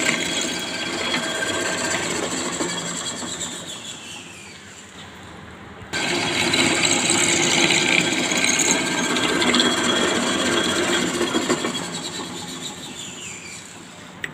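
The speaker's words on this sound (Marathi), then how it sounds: "ड्रॉईंगप्रमाणे आपण ड्रिलिंग करून घेतलेलं आहे" Power drill boring through a metal workpiece with water as coolant during fitting practice, a steady grinding whir that dips briefly mid-way and resumes at full strength, with no speech.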